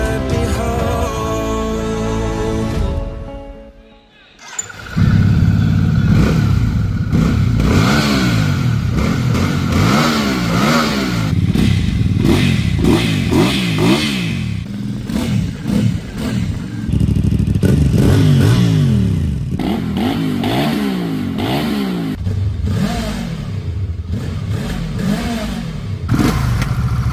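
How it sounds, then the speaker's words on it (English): A KOVE 625V Lancer cruiser motorcycle is ridden, its engine revving hard through repeated rising and falling accelerations, loud and close, with a brief quiet dip early on and no talk. "Today we're gonna ride this beautiful Kove 625V,"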